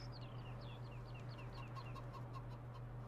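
Chickens in the Farming Simulator 19 video game cluck and chirp in a steady string of short calls over a constant low droning hum, with no talking.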